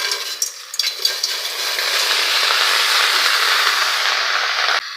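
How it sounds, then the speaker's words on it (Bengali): Onion flowers and beans tipped into a hot pan: a few quick clatters as they drop in, then a steady, loud sizzle of frying that carries on to the end. "পেঁয়াজের কালি আর সিমগুলো কড়ার মধ্যে দিয়ে দেবো।"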